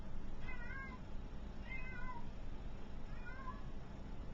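A cat meows three times at an even spacing, each call soft and somewhat distant over a steady low background hum.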